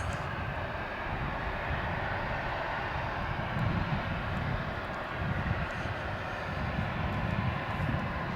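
An airliner comes in to land at Dallas Fort Worth International Airport. Its jet engines give a loud, continuous roar and rumble that holds steady throughout, with no speech over it.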